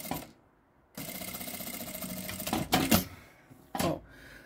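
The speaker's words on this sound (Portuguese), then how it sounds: "Então, aqui só venho costurando" Domestic sewing machine stitching lace trim onto a cotton dish towel: a steady, close mechanical whirring run of about two seconds after a brief pause, then a few sharper clunks and bursts as the fabric is handled.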